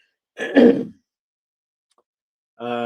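A single short cough from a man, followed by a pause of silence before he starts speaking again.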